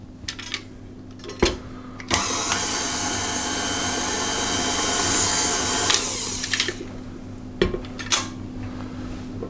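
An electric mixer whirs as egg mixture is mixed with 225 grams of ground almonds for Bakewell tart squares. A steady motor drone is bracketed by sharp clinks of metal against the bowl.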